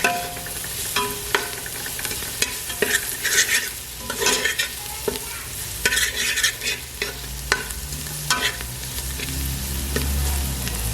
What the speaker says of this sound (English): let this fry up for like about a minute